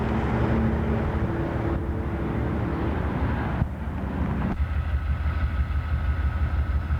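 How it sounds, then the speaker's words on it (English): Two Amtrak Genesis locomotives idle on the Auto Train at Lorton, a steady low diesel rumble that holds throughout, with slight shifts in tone partway through and a faint higher hum joining near the end. "The two Genesis engines are standard power"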